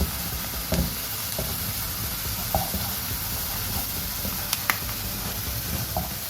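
Onions and cashews fry on full flame, likely in ghee, for ghee rice. A continuous close sizzle is broken by a few faint clicks of stirring.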